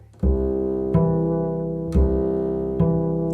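A bowed double bass sounds a sustained two-note chord, restruck four times in a steady rhythm, rich and resonant with clear attacks.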